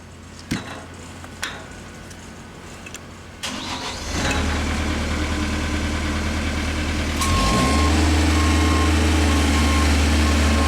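A Genie lift's engine starts after a few clicks and thuds, then runs steadily and grows louder as the machine moves on a test drive, with a continuous mid-low drone and a brief faint beeping tone.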